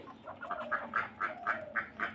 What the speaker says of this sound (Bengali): এই যে হাঁসগুলো চলে যাচ্ছে